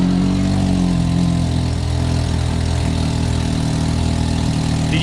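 Can-Am X3 XRC side-by-side with a cat-delete electronic cutout exhaust idles with an exhaust leak at a loose band clamp: a loud, steady, close low rumble held throughout.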